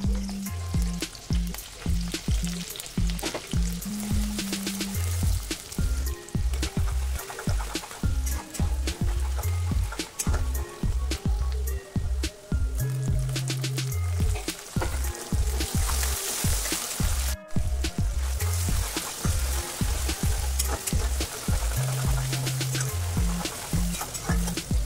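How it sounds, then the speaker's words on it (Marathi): Onion and tomato fry in hot oil in a kadhai for pav bhaji, giving a steady, close sizzle with repeated scraping stirs throughout. "तेलामध्ये आता आपल्याला कांदा आणि टोमॅटो चांगलं भाजून घ्यायचं आहे"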